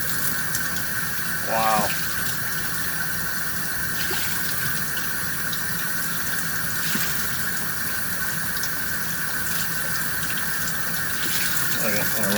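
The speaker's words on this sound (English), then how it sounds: "Okay, I'm gonna rinse them out." Parts of a Fluval 406 aquarium canister filter, full of sand, are rinsed under a running tap, a steady close gush of water throughout, with a brief exclamation early on.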